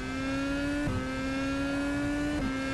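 A Marussia Formula 1 car in the rFactor 2 racing simulator, engine droning steadily under throttle with two quick gear shifts dropping the pitch, loud and continuous from the cockpit.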